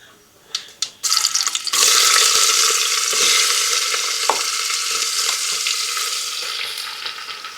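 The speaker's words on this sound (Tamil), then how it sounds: "இது எல்லாத்தையும் மிக்ஸ் பண்ணி நல்லா வதக்கி விட்டுக்கலாம்." Sliced medium onions and small shallots hit hot oil for mutton gravy: a few clinks, then a loud, steady sizzle that continues alone, with occasional stirring knocks.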